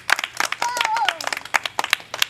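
Children clap during a 26 January Republic Day gathering, a burst of quick, scattered hand claps mixed with lively talk and chatter nearby.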